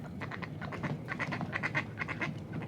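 Ducks quack repeatedly in a steady, overlapping chorus beside a frozen waterway in December, fairly close and clear over a low outdoor rumble.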